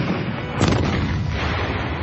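A cannon booms once in a sustained, roaring wash of low rumble that lingers without a crisp second blast, as if heard from a distance.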